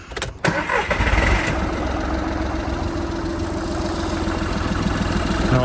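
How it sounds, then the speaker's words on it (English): A car engine cranks briefly with a starter whine, catches, then settles into a steady, close idle that continues to the end. "Do you want to listen to the engine running?"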